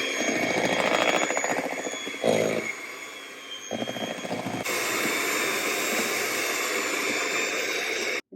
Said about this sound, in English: I'm going to add in 2 teaspoons of the corn flour and 2 teaspoons of the white wine vinegar, and then whisk them